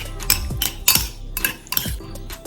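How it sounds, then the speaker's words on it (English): A metal spoon scrapes and clinks against a bowl while mixing dry seasoning for squid, with black pepper and all-purpose seasoning in it: several distinct taps and scrapes at an uneven rhythm, close and fairly loud, with no voices. "I'm gonna use a spoon and I'm gonna mix all the seasoning."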